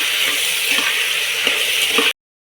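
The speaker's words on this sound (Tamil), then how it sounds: "இதையும் நல்லா வதக்கணும்" Soaked peanuts sautéing in a pan, a steady close sizzle with faint stirring scrapes running evenly for about two seconds before cutting off.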